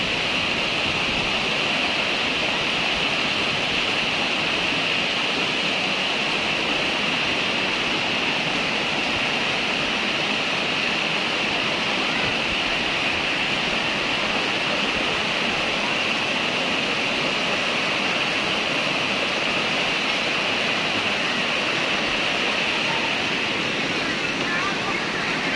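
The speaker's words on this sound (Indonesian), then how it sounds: "Kita mau mandi air terjun." Waterfall at Leuwi Kunten in Sentul, mountain water pouring down in a dense, constant broadband roar that stays steady and loud for nearly half a minute, with no break or change.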